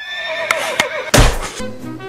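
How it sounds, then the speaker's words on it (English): A horse gives a loud, close whinny with a rising and falling tone, followed by a couple of dull thumps and a shorter trailing neigh. "Well, I bought a horse!"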